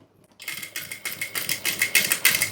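Sewing machine stitching the folded piping along a blouse neckline, a quick train of short mechanical bursts, close and fairly loud, starting after a brief silence and running alone.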